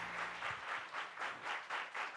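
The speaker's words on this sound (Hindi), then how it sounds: "जोरदार तालियां अली हुसैन के लिए।" Audience applause for Ali Hussain at a singing competition show, a short steady wash of many hands clapping in pulsing swells, moderately loud and without talk.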